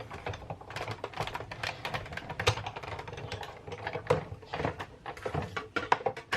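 Patterned paper being cranked through a die-cutting machine while cutting heart shapes for a scrapbook layout, giving a steady run of close, sharp clicks and ratcheting taps over several seconds, with no voices.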